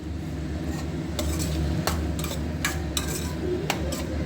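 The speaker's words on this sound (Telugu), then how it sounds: "వేసుకొని ఇలాగా కొంచెం లైట్గా కొంచెం ఫ్రై అయితే సరిపోతుంది." Cashews are stirred in a pan as they lightly fry. A utensil makes close, scattered scrapes and clicks against the pan over a soft, continuous frying hiss, with no talking.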